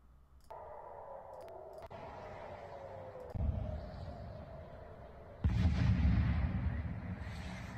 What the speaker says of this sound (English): Man, those explosions are huge.